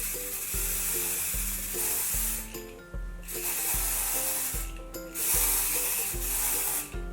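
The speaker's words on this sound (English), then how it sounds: "I'm going to get the same shimmer spray that I used to spray the unicorn horns, and I'm going to spray the buttercream and the cases." Shimmer spray hisses in bursts from an aerosol can onto buttercream-topped cupcakes and their cases, several loud sprays in a row over a steady background beat of music.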